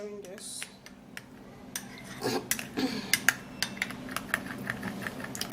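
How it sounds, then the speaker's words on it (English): Spoon stirring an orange juice, orange peel and rice powder mixture in a bowl, with light irregular clicks and scrapes growing busier, faint and close. "I'm going to be stirring this."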